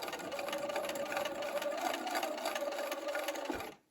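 Sewing machine stitching a crochet granny square runner, running at a fast even buzz with a steady hum, then stopping abruptly near the end.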